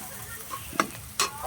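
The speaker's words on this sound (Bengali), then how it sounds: "হলুদটা তেলের মধ্যে দিলে তরকারির কালারটা বেশি ছোটে" Turmeric fries in oil for a fish, eggplant and potato curry, a faint, soft sizzle broken by two short stirring scrapes.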